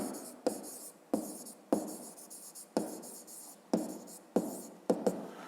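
A pen scratches across paper in a steady series of about ten short strokes, each starting with a sharp attack and trailing off, close and clear with no talking.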